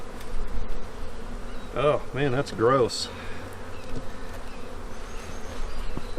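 Bees hum and buzz around a winter-killed beehive infested with beetles, a steady drone with a few louder close passes while someone speaks briefly.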